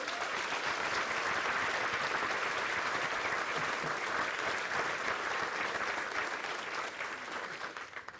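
An audience claps for volunteers at a community event, steady sustained applause filling the room for several seconds before tapering slightly at the end, with no voices over it.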